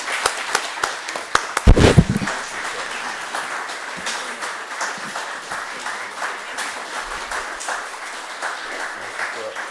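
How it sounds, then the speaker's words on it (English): A town board meeting audience claps steadily in a room, with a short burst of louder, closer claps early on, then even, moderate applause that carries on to the end. "I got to give him a round of applause"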